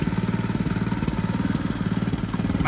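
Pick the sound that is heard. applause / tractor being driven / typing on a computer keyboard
tractor being driven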